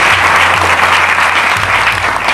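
A church congregation at a Hindi sermon claps in praise, dense continuous applause filling the space loudly from start to finish.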